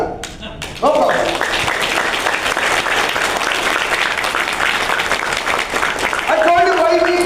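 An audience claps at a network marketing talk, dense and loud for several seconds after a brief spoken lead-in, with a voice rising over the tail end.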